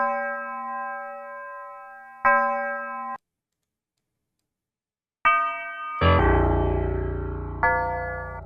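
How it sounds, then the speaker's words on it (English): Sustained church bell sample tones in a beat ring out, one after another with a short silence between, the later strikes an octave deeper and richer, each slowly fading. "We're going to go ahead and get a church bell in here."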